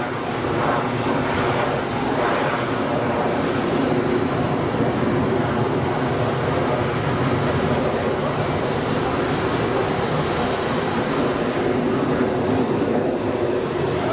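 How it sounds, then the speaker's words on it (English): A Cessna Citation business jet winding up its engines at Geneva Airport, a loud continuous broadband roar with a steady rumble that holds evenly throughout, no clear voices. "Winding it up. Cessna Citation."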